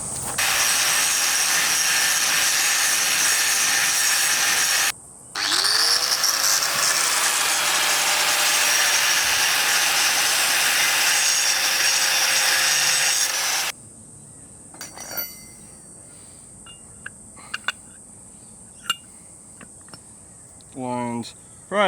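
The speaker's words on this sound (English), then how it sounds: "So I just got to grind down that bushing sleeve a little bit more." A grinder cutting down a suspension bushing sleeve for an RD1 Honda CR-V, a loud continuous whining grind that stops briefly and then resumes, followed by quieter workshop clicks and ratcheting.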